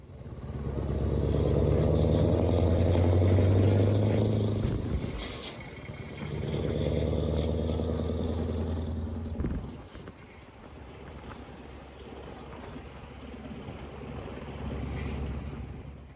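A truck engine running with its silencer removed gives a loud, rough rumble that swells, dips around the middle and swells again before easing off to a quieter idle-like drone.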